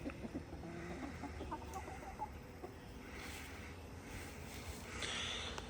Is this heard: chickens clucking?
yes